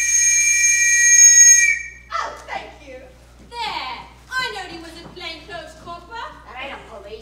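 A sharp, shrill whistle is blown on stage during a performance of Pygmalion, a sustained piercing blast lasting under two seconds, followed by actors speaking in a reverberant hall.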